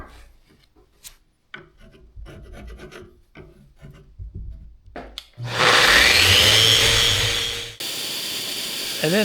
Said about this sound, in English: I cleaned up the extra piece of wood that I put in there and just sanded it down so that everything was smooth